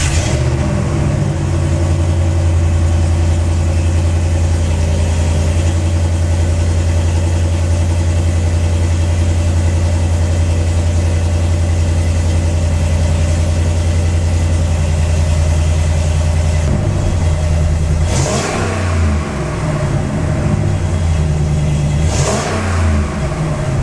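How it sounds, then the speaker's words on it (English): A RAM 1500 truck fitted with JBA shorty headers idles with a deep, loud, steady rumble, then revs sharply twice near the end, each blip rising and falling back to idle. "this is what my truck sounds like with those headers"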